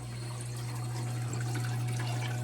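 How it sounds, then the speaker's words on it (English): Water runs steadily into a commercial Manitowoc ice machine during a descaler cleaning cycle, a constant rushing fill with a low mechanical hum beneath it. "That's now saying water fill."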